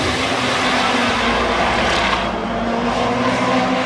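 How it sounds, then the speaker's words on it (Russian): Formula Radical race cars roll into the pits at Abu Dhabi, engines droning loudly and continuously as they pass nearby, with faint tire noise. "в боксы заезжают машины"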